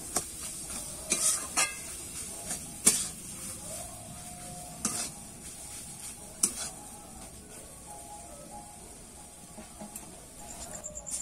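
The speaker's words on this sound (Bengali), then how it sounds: "এবার ভালো করে নেড়ে চেড়ে কিন্তু আমি কষিয়ে নেব।" Raw jackfruit and potato stir-fried in a pan, with soft continuous sizzling broken by sharp, irregular scrapes and knocks of a spatula against the pan.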